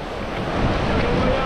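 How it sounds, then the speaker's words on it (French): Ocean waves breaking on a beach, a steady broadband wash of surf mixed with wind rumble on the microphone, continuous and fairly loud throughout. "Ah il y a des vagues hein"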